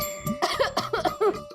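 A person gives a short run of throaty, voiced coughs in quick succession indoors in a sitcom scene, close and moderately loud over a faint steady background tone.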